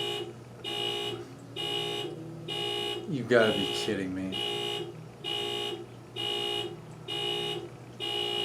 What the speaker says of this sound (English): That thing has an alarm on it.